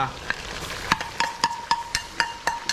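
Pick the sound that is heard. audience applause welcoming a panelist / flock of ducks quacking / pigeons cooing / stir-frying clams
stir-frying clams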